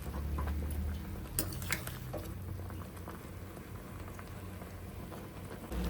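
Palak spinach leaves boil in a pot of water, a steady bubbling simmer with a few sharper pops and clicks early on and no talking.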